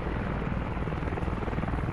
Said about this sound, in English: Helicopter departs the rally point with a squad in tow.